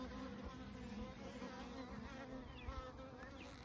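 Honeybees swarming densely around an open Flow Hive during a beehive inspection, a steady close buzzing drone with individual bees whining past, continuous and without speech.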